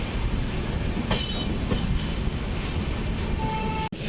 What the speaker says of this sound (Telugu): ఇప్పుడే మన ట్రైన్ అయితే నాగ్పూర్ స్టేషన్లోకి స్లోగా అయితే ఎంటర్ అవుతుంది